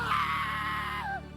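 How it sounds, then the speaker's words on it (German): A goat screams in the Minecraft video game, a single loud, drawn-out bleating cry lasting over a second that falls in pitch and trails off at the end, heard alone with no talk. "Schon wieder eine Ziege."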